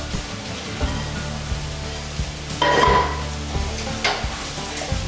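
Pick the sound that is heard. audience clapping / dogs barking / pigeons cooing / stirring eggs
stirring eggs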